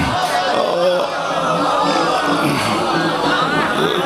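Crowd at a Shia majlis gathering chanting the takbir in unison, a dense, continuous wall of massed voices that stays loud and steady throughout.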